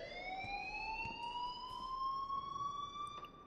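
Rising, sustained wailing alarm from a school building in the video game Life is Strange, loud and continuous with a slow upward sweep, heard alone.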